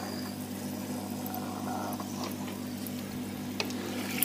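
A Sun Sun JP 032F nano aquarium filter pumps water, producing a steady low motor hum mixed with a continuous rushing, splashing flow heard up close, with no one speaking.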